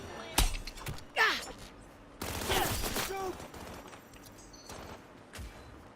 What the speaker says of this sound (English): No, they're just shooting out at her.